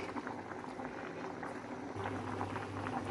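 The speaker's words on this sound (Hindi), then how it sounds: "इसकी अभी कन्नी आने लगी, और मैं इसके पानी निकाल के और दम पे रखूँगी" Rice boiling in a pot of water, a steady bubbling simmer with a low hum, close and continuous, slightly louder in the second half, with no voices.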